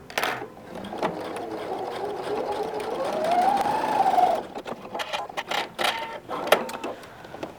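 A sewing machine topstitching jeans and other heavy fabric runs in a steady whirring burst for a few seconds, then slows into scattered short stitches and clicks, close up with no talk.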